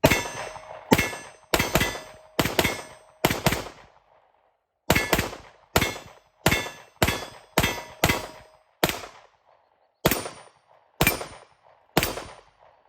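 A Vudoo Gun Works Priest rifle, a rimfire target gun, fires through a magazine: sharp, closely spaced cracks, each followed by a short ringing tail, with a few longer gaps, loud and close with no talking.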